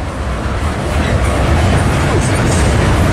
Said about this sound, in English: here comes an eastbound. Ooh, is this the empty ethanol train?